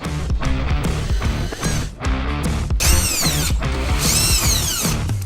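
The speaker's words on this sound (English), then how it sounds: "first locate the mud flap and remove the 5 T15 screws here" A power driver removes the T15 Torx screws from the front-wheel mud flap of a 2020-or-later GMC Sierra 2500/3500 pickup, with loud, close whirring bursts and ratcheting spin-ups that rise and fall in pitch over several seconds.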